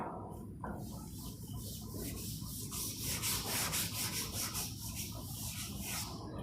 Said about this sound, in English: I am going to rub the board